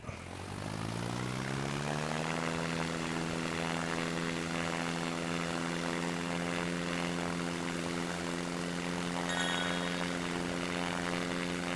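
Airplane engine in the flight video game Simple Planes, a steady propeller drone that climbs in pitch over the first two seconds, then holds a constant loud hum alone.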